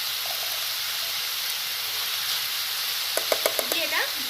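Vegetables for spring rolls fry in ghee in a pan, giving a constant loud, dense sizzling hiss, with a few brief tonal scrapes near the end.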